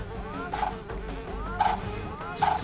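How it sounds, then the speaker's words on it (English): Bees buzzing in the video game Ninjabread Man, a close, loud droning hum that rises and falls in repeated swells, with several short sharp hits sounding through it. "Just please go away, bees."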